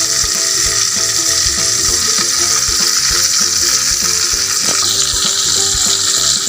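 Kanduli fish frying in hot oil in a provincial kitchen, a loud, steady, dense sizzle with crackling spatter running throughout, close and continuous with no voices.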